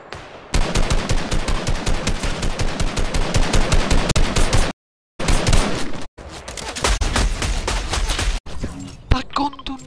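Rifle fire in Fortnite, long rapid automatic bursts of loud, close shots, broken by a couple of abrupt silent gaps, then more bursts with scattered single cracks toward the end.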